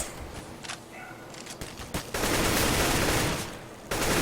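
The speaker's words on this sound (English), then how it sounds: "we do see some bullets being exchanged here at Long B" Rapid gunfire exchange in a competitive shooter video game match, with bursts of shots growing into sustained, loud automatic fire that fills most of the stretch before briefly easing and resuming.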